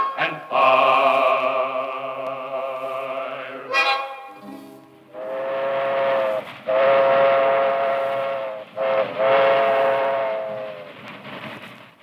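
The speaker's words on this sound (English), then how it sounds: "Only the sound of the train whistles" Train whistles sound in several long, loud blasts, with a sustained steady tone, a brief sharp break, then further drawn-out whistles with a slightly falling pitch, standing alone with no talk.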